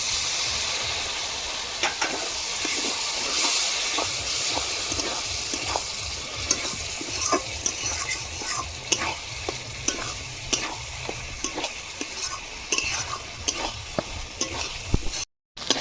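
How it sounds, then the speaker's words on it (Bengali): Spice paste for Bengali mutton kosha sizzles and fries in a pan, with repeated scraping stirs breaking through the steady crackle throughout, close and alone without any talk. "দেখুন মশলা কষা হয়ে গেছে"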